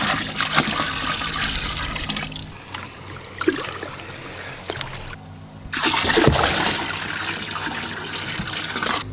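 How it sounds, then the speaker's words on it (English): A bucket of pond water pours and splashes into tubs in two long gushing bursts separated by a brief quieter pause, close and loud. "We're gonna take a bucket of pond water and then put it in the tubs"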